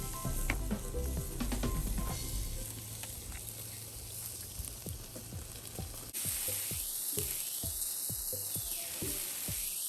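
Asparagus spears sizzle on a barbecue grill with a steady hiss, broken by scattered clicks and pops of spattering fat close by, and the hiss turns brighter partway through.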